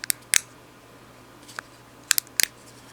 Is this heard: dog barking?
no